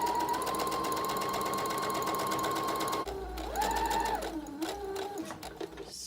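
A sewing machine stitches around the edges of candy corn fabric for a Halloween treat bag, running with a steady rapid whir, then pausing and restarting at varying speeds, close and alone.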